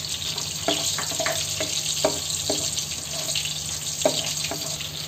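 Onions frying in a pan for a chicken dish, a steady mid-level sizzle broken by several scraping strokes of a spoon, with a low background hum and no talking.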